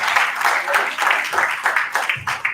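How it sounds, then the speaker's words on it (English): Convention crowd at a horror event applauding performers in Teletubbies costumes, brief uneven clapping with cheering voices mixed in. "Can we get a round of applause"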